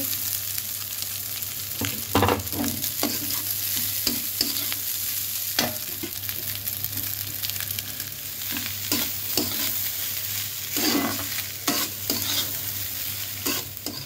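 Rice tossed and stirred in hot ghee in a pan for prawn rice, a steady loud sizzle broken by repeated scraping and clattering stirs, with no talking.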